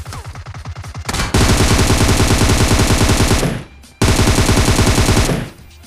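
Loud, sustained automatic gunfire from a PUBG Mobile match: dense rapid bursts rattle close by, with one brief pause around the four-second mark before another long burst resumes and then trails off.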